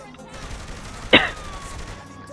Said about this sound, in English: stop shooting at them